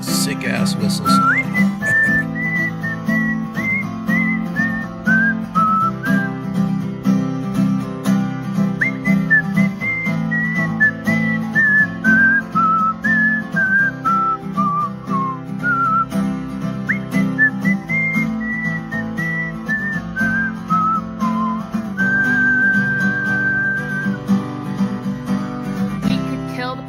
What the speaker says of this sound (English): Sick ass whistle song.